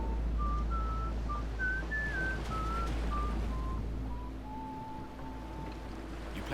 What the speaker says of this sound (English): Sorry, I whistle when I'm nervous.